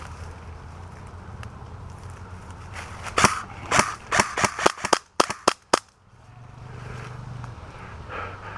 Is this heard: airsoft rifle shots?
yes